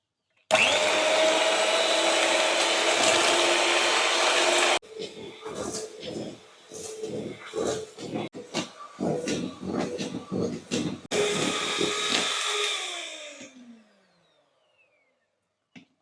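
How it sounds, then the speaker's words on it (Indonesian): An electric mixer whips cake batter for a simple birthday cake, a loud steady whirring that turns into stuttering pulses, returns to a continuous whine, then winds down to silence. "Kemudian ini kita mixer sampai nanti jadi adonan yang kental, putih, dan berjejak."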